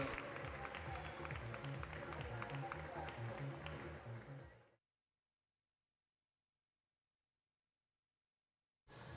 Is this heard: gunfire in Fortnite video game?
no